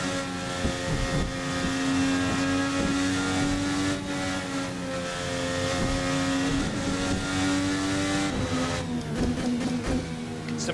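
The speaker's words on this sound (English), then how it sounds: "do get a very nice auto cut on the upshifts and a nice auto blip on the downshifts, courtesy of the ECU" A VRC Formula NA race car in a racing game, its engine wailing continuously with a loud, high-revving tone that steps through shifts with a sharp cut on the upshifts and a quick blip on the downshifts.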